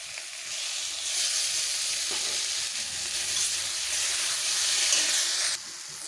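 Ground spices and tomato paste fry in oil in a pan, making a loud, steady sizzle and hiss with faint stirring scrapes underneath. The frying swells after the first second and cuts off sharply near the end.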